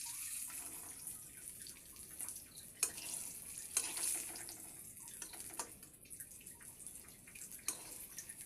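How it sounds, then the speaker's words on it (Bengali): Eggplant slices frying in hot oil on a home stove, a steady soft sizzle with occasional clicks and stirring taps, fairly quiet and close, with no talking. "এই যে বেগুন ভাজাগুলো আবার আমি তুলে নিব এবার।"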